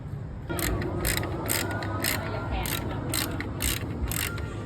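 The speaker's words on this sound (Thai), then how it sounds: "มันก็มีน็อตยึดกระจังหน้านะครับ อยู่สี่ห้าตัวนะครับ เดี๋ยวต้องไขออกนะครับ" A tool works bolts loose from the front grille of a Tank 300 SUV, making a fast, repetitive ratcheting click that continues steadily for several seconds, close up over a low background hum.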